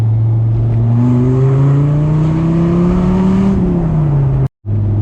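A Dodge Viper RT/10 with its V10 engine accelerates on a straight road, the loud close engine note climbing steadily in pitch, then briefly cutting out for a gear change before resuming.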